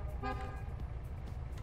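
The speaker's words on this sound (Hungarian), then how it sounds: "Esküszöm, jók ezek a dudák!" A car horn in a video game gives a short tonal honk early on, faint and brief against quiet background game sound, with no talk over it.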